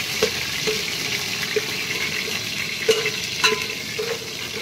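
Onions sizzle steadily while frying in oil for a chicken dish, with a spoon stirring through them and landing a few soft scrapes and clicks against the pan, all close and continuous with no one talking.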